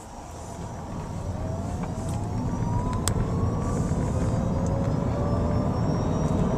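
An electric Smart car pulls out into traffic, its thin motor whine rising steadily in pitch over loud, constant road and tyre rumble, with no talking.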